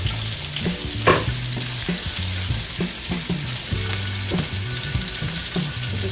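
Onion and garlic sautéing in a reduced amount of cooking oil for Ginataang Tulingan. The sizzling is loud and close, broken by frequent clattering strokes of a spatula stirring in the pan, and no one speaks.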